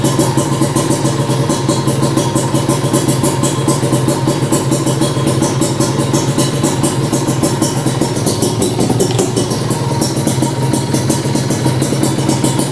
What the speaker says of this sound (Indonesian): sekarang kita nyalain dulu motornya ya